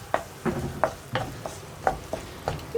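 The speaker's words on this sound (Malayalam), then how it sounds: "ഇപ്പോൾ പൊടികൾ ചേർത്തിട്ട് നമ്മൾ നന്നായിട്ടൊന്ന് ഇളക്കി കൊടുക്കുക" Spice powders being stirred by hand into a homemade carrot pickle, giving a series of close scraping strokes in an irregular rhythm with a faint sizzle underneath; nobody talks.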